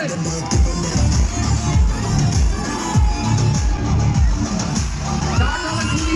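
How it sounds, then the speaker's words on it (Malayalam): A mall crowd claps and cheers loudly for the Kaatalan film team at a promotional event in Kozhikode, a dense, continuous roar of hands and shouts with whoops rising throughout. "Please put your hands together for Team Kaatalan."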